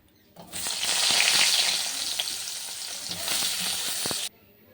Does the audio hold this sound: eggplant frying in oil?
yes